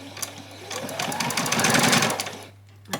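A sewing machine stitches steadily along the bottom hem of a fabric apron, a close, continuous rapid whirr that stops abruptly near the end, followed by a short mechanical clunk.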